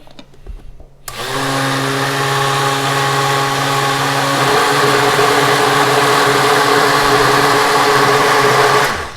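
A countertop blender whips a healthy cheesecake mixture, starting abruptly after a moment of quiet and running as a loud, steady, high-pitched whir until it cuts off.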